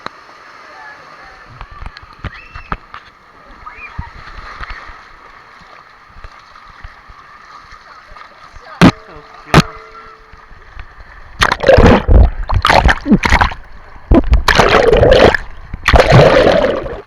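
Water splashing and sloshing in an outdoor swimming pool, with bursts of loud, close splashes toward the end after quieter stretches with faint voices and knocks.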